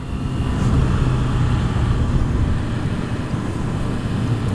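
A Honda CB650F motorcycle rides along with a steady, loud engine drone and wind rush, the low rumble holding evenly throughout.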